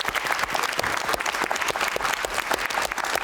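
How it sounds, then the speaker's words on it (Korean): A room of people gives steady, dense applause of encouragement at the close of a Busan cultural policy panel discussion, a continuous crackle of many hands with no talking. "박수 서로 예, 격려의 박수"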